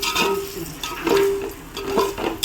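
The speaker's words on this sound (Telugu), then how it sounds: "ఒకసారి కలుపుకుందాం కలుపు" Stirring Telangana-style fish curry in a pan: a spoon scrapes and clinks against the metal in a few short strokes over a soft sizzle, close and moderately loud.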